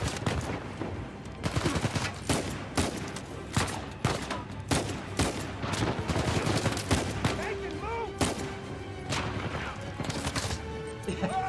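Gunfire crackles in the Uncharted 4 video game, with rapid bursts and single shots in an irregular rhythm, loud and close, under scattered talk.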